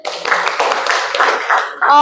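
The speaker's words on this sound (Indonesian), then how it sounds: "boleh tepuk tangan lagi dong" Students in a classroom clap together after group presentations, a short burst of close, loud hand claps ending abruptly.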